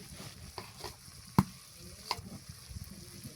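Ground spices such as chili, turmeric and coriander go into a pan of frying masala, with a soft sizzle and stirring scrapes under one sharp clank of a utensil against the pan, close and without speech.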